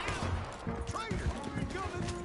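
Gunfire rattles through a Red Dead Redemption 2 shootout, scattered sharp shots and bursts over a busy, noisy background, with voices talking and shouting throughout.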